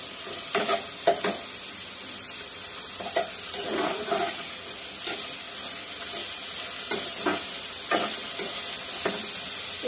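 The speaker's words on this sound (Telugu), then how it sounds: "ఉల్లిగడ్డలు పచ్చిమిర్చి వేసినాం కదా, మంచిగా కలుపుకోవాలి" Onions and green chillies stirred in a frying pan, a steady close sizzle of oil with recurring sharper scrapes and knocks of the spatula at irregular intervals across ten seconds.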